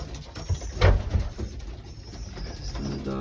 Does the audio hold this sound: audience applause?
no